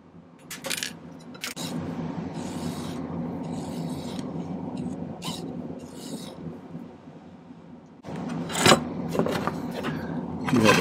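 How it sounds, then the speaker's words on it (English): A metal file rasping across the ends of silver wire while making amethyst earrings, a steady close scraping that runs continuously for several seconds, with a few sharp metallic taps near the end. "I'm just going to file the ends of these both flat."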